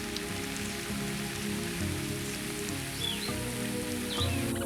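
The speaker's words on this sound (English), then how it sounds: "The rain very quickly brings a close to the seemingly incessant days of heat" Rain falls steadily over dry savanna in a dense, even patter, with faint bird calls and low rumbling in the background.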